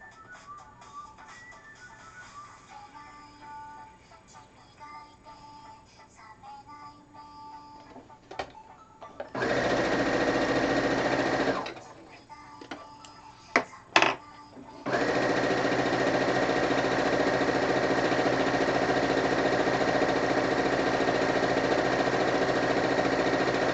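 A sewing machine stitches Harry Potter fabric in two runs of fast, even mechanical whirring, a short burst and then a longer continuous one, with quiet clicks and handling noise before and between them.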